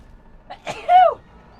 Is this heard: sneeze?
yes